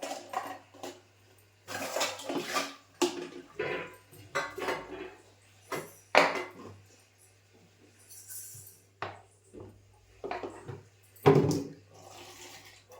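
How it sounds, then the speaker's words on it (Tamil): Pots and dishes are washed by hand, with loud, close clattering of metal vessels and cutlery in uneven bursts, splashes of running water between them, and no talking. "இப்போ வந்து பாத்திரத்தை கடகடன்னு கழுவிட்டா"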